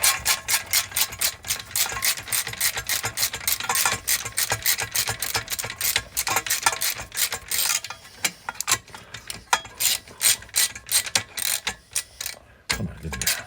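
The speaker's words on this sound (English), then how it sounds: "This is the part where you start breaking the bolts." A ratchet wrench cranks steadily while breaking loose bolts on a Honda front rack during teardown, with a continuous run of loud, close, rapid clicking strokes that turn more irregular toward the end.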